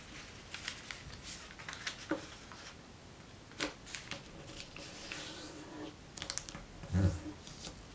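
Soft crinkling and creasing of paper while folding an origami piranha fish, quiet close rustles and taps scattered over several seconds.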